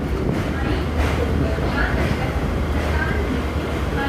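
A Mumbai slow local train pulls into Sandhurst Road station, a loud continuous rumble of wheels and carriages with faint rhythmic clatter throughout.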